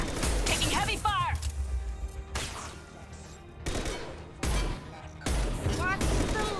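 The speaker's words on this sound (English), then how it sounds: "Taking heavy fire!" Heavy gunfire in Mass Effect 2 comes in loud, dense bursts of blasts and impacts separated by quieter lulls, with voices speaking between the volleys.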